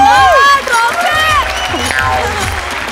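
A studio audience at a Marathi comedy show bursts into loud, dense applause and crowd noise as someone is called onstage for an award, with voices talking over the clapping throughout.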